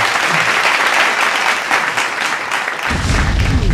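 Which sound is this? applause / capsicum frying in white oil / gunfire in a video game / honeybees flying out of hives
applause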